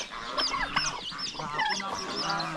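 Chickens and newly hatched chicks call close by, a busy overlapping mix of clucks, squawks and high peeps with no pause.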